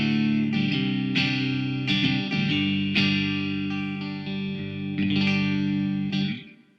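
Electric guitar through a Blackstar St. James 6L6 amp with both Cab Rig cabinets blended, playing loud distorted chords and single notes with a steady sustained tone, then fading out at the end.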